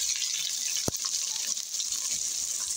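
Onions sauté in hot cooking oil with a constant bright hiss and sizzle, close and even, broken by one brief knock.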